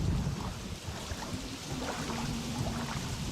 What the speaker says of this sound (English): you're just in the water, under the rain, on Skull Island